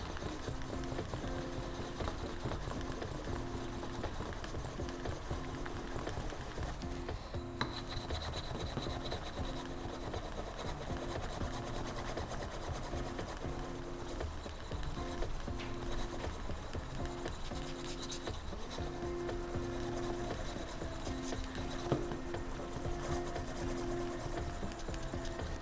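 A wooden slicker rubbing briskly back and forth along a leather edge during burnishing, giving a steady, continuous close friction rasp with an even rhythm throughout.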